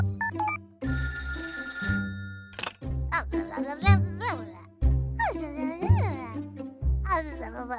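A children's cartoon telephone rings in repeated bursts early on, followed by a child-like voice talking in several short phrases over soft music.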